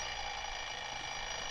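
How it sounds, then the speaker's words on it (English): An alarm clock goes off at five in the morning with a continuous, steady ringing tone that holds at an even level throughout. "I set my alarm for 5 the next morning"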